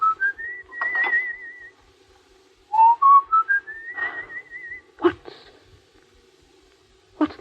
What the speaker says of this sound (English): What's that you're whistling?